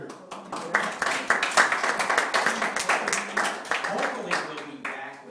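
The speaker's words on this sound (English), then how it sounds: "give Chuck and Laura Tesla a round of applause" An audience gives a round of applause at a talk: dense, fairly loud clapping from many hands that builds and holds for about five seconds, with the individual claps running together into a steady ripple.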